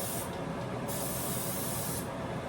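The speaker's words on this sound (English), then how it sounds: "So let me spray it here." Cooking spray hisses from an aerosol can onto a pizza cutter while s'mores brownies are being made: close, loud bursts of spray nearly continuous across the clip, briefly dipping between them.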